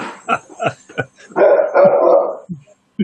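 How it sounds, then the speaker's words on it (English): A dog barks in a run of sharp, evenly spaced yaps, followed by a longer, louder stretch of sustained barking and a couple of short closing barks, with no talk over it. "Oh, I hear a dog barking."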